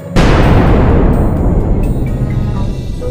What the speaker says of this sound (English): his truck exploded.